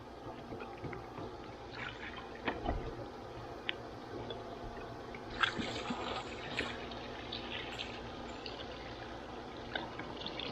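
Diesel fuel trickles and splashes faintly into a GMC throttle body set down in a container, a soft continuous pour with a few small clinks over background hiss.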